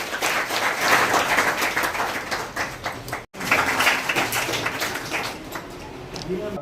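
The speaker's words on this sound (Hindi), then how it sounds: "तालियां बजाइए" An audience claps at a ceremony launching free coaching for children, a loud dense round of applause that breaks off abruptly for an instant and then resumes just as full.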